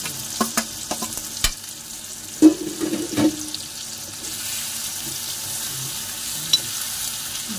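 Stuffed brinjals go into a hot pan with their masala, a low steady frying sizzle broken by several knocks and clatters of utensils early on, with a watery, splashy quality and no speech.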